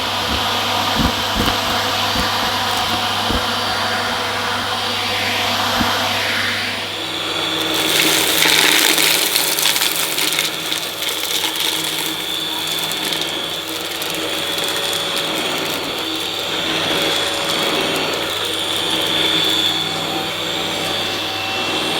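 Henry Quick cordless vacuum cleaner picking up spilled debris emptied from a Sebo Balance, its motor whining steadily at close range while loose bits rattle and click up the nozzle, pitch shifting as it sweeps back and forth.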